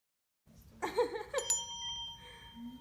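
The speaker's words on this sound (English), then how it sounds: "So you heard a bell being rung" A single bell rung once in a home video, a bright metallic ring that decays over about two seconds with a faint giggle and low room noise around it.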